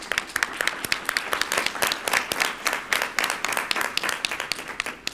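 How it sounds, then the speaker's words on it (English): An audience at a Fort Worth school board meeting applauds steadily, many hands clapping in a dense, sustained burst that continues throughout. "let's give them one more round of applause."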